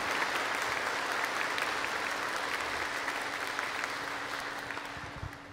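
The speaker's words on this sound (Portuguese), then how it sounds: "Vamos dar uma bonita salva de palmas à palavra de Deus." Sustained applause from a congregation fills a large church basilica, a dense even wash of many hands clapping that holds steady for several seconds before slowly fading.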